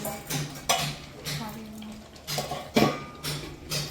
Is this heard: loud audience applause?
no